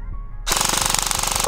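An Arcturus AK12 airsoft rifle fires a full-auto magazine dump after a quiet moment, a loud, very rapid and even buzzing stream of shots close by.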